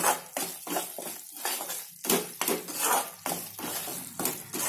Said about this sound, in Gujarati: એને શેકતો રહેવાનું એને મૂકવાનું નહીં હલાવતા જ રહેવાનું સતત હલાવતા રહેવાનું